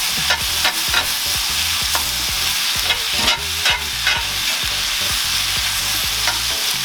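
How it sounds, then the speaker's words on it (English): Chicken fajita vegetables stirred in a hot pan, a steady close sizzle with repeated scraping and clinking strokes of the utensil throughout, no voices. "Now we're gonna give this a nice little stir."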